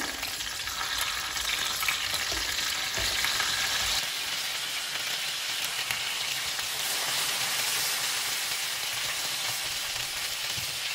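Bell peppers sizzle in a hot pan with a continuous, rain-like crackle at moderate level, with light shuffling as they are turned partway through.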